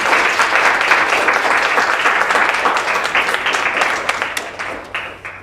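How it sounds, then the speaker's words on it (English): Lecture audience at a Brain Awareness Week talk breaking into sustained applause, dense and steady clapping from a full room that gradually thins and fades toward the end. "So if you want, well, you can applaud."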